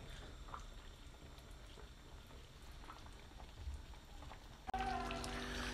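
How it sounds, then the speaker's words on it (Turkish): Soft, continuous bubbling of water with potatoes at a low simmer over low heat, with small pops and gurgles, ending in a sudden louder clatter. "Kısık ateşte bir 20 dakika kaynıyor bu patates pişene kadar"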